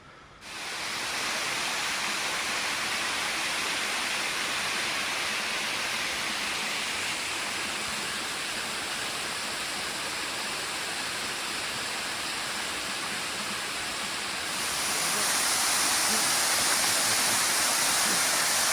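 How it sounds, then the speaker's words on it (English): A waterfall crossing the Appalachian Trail, a steady full-bodied roar of falling water that swells slightly louder near the end, close and continuous with no voices. "This waterfall crossed the trail,"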